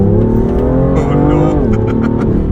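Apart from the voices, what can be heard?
BMW M2 accelerating hard in drag race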